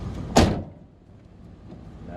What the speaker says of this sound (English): Didn't shut this door all the way.